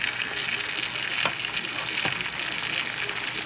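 Crust-free low-carb pizza mixture poured into a hot oven-safe skillet, giving a steady, close, broadband sizzle with a couple of faint taps from the pan.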